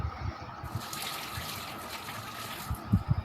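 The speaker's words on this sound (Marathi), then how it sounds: "बटाट्याला स्वच्छ धुवून घेते दोन वेळेस पाण्याने" Potatoes are swished and rubbed in water, with splashing, sloshing and a few low knocks, close by and fairly quiet.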